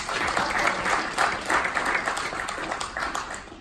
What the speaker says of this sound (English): please take this time to give yourself an applause